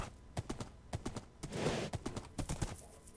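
Horses clip-clop on open plains in a Minecraft server game, a steady run of close, loud hoofbeats with a brief whooshing swell in the middle.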